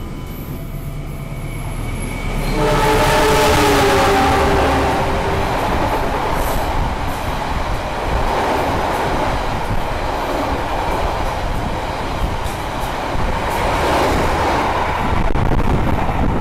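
Aboard the KA Airlangga train, a continuous loud rolling rumble with rhythmic clatter of wheels on rail joints carries on throughout, swelling early and staying steady.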